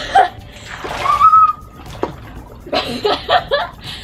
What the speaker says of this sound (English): I'm going to jump on the deflated float